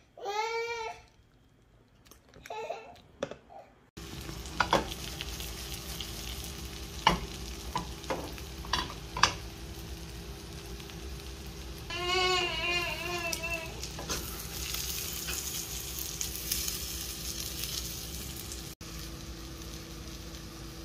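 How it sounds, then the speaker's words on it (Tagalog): Eggplant omelette, tortang talong, frying in a pan: a steady sizzle with intermittent stirring and scraping clicks, mostly alone, with a baby crying briefly in the background. "Lutuin lang natin siya na parang omelette."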